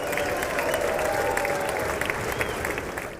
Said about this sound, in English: As he moved through the crowd and took the podium, the applause continued for over